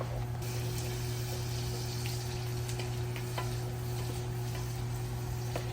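Sausage and vegetables, onions among them, fry in a pan for a hash with sausage and potato, giving a steady, close sizzle that holds an even level throughout with small pops over a low constant hum.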